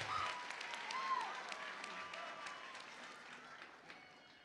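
Crowd applause at the Central Arizona College Class of 2023 spring graduation ceremony: a steady, dense wash of clapping from a large audience, heard from a distance and holding throughout, with a few faint whistles.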